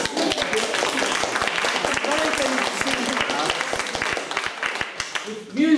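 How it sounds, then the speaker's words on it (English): A concert party audience applauds to welcome two performers, dense continuous clapping with people talking and cheering underneath throughout. "a big round of applause to welcome Nina and Sarah"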